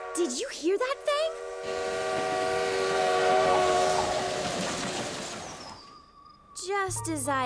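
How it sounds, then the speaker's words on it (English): Spooky cartoon train whistle, a long sustained eerie blast with rumbling rail noise that slowly fades out, with speech before and after. "did you hear that spooky train whistle this morning?"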